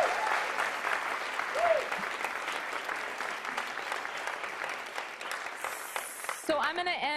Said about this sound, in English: if you could give them a huge round of applause for their own activism